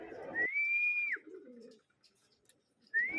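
Near a rooftop where racing pigeons return from a training flight, a bird gives two clear rising-and-falling whistled calls, one at the start and one at the end, with a soft low fluttering sound between them and quiet surroundings.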